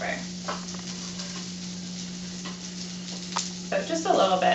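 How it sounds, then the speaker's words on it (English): Sauteed asparagus and peas sizzle in a pan as they are stirred, with a steady frying hiss, occasional utensil scrapes and louder clattering near the end. "give them a good stir"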